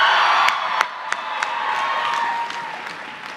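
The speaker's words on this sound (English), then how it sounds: "please rise and cheer" Graduating master's candidates in the Ivan Allen College of Liberal Arts at a Georgia Tech commencement cheering and clapping, a crowd's dense applause with whoops that swells and then slowly fades in a large hall.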